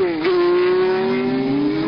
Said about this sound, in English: Sifford roared into the pits with more trouble for Porsche